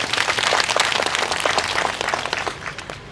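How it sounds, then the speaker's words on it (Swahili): Dense, loud applause from an audience at a county commissioner's official launch ceremony, many hands clapping at once in a steady roar that tapers slightly at the end. "Tupige makofi."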